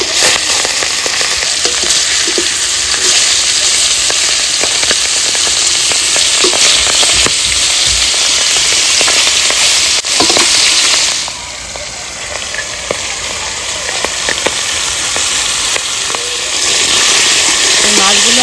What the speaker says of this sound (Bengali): আর আমি ওই জন্য মাছগুলো ভেজে দেবো